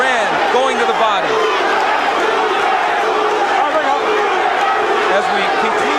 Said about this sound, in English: again the crowd picks up the chant of Duran's name